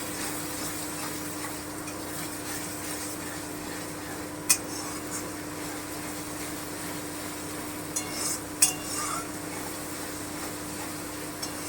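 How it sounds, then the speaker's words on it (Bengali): Tomato paste frying in a pan for coriander chicken makes a low, steady sizzle close by, with a few sharp clinks of a spoon or utensil against the pan scattered through the clip, and no one talks. "এবারে আমি টমেটো পেস্টটা দিয়ে দিচ্ছি দিয়ে আরও একটু ভেজে নিচ্ছি"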